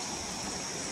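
Water flows steadily at a river spot at Ramling Bet on the Sangli side of Maharashtra, a continuous broadband rush that is close and constant through the whole second, with no voices over it.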